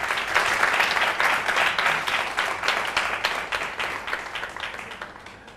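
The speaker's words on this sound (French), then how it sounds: "La jeunesse répond par un tonnerre d'applaudissements." A young audience at a youth holiday event in Treichville bursts into loud, sustained applause, dense clapping that starts strong and slowly tapers off over several seconds with no talking.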